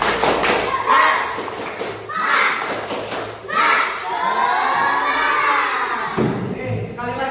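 A classroom of children performs the tepuk semangat clapping chant, rhythmic bursts of loud group clapping and shouted chanting in quick sections, busy and close.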